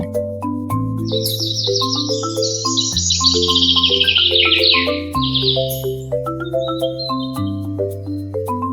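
A bird chirps in a quick, bright trill lasting several seconds, then a few fainter chirps follow, all over a cheerful music backing.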